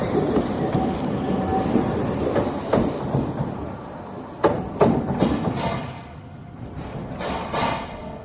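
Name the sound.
train passing by, recorded on Tascam DR-05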